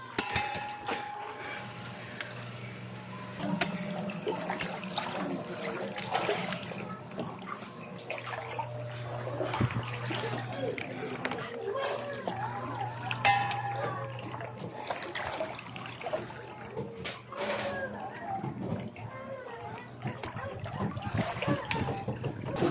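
Water flowing into a tank, a continuous trickling and splashing wash under intermittent voices talking nearby.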